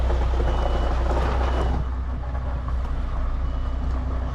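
A semi truck shunting back and forth in reverse, its low diesel rumble and air noise steady and close, with reversing beeps presumably sounding through the engine noise; no talking.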